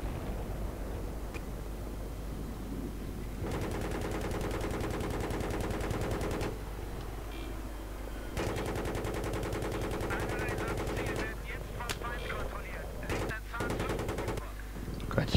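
Tank and automatic weapons firing in the Battlefield 3 multiplayer game, with long sustained bursts of rapid rattling gunfire separated by brief pauses and scattered sharp shots, fairly faint and under occasional talk.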